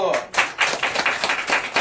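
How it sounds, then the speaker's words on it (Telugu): A church congregation claps together during a Sunday worship service: a quick run of sharp, evenly spaced hand claps blending into a steady patter of applause, fairly close and loud. "చప్పట్లు కొట్టు"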